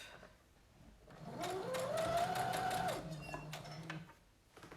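A sewing machine runs one steady burst of about a second and a half, stitching along the top of a skirt's pleats, with quieter handling noise before and after.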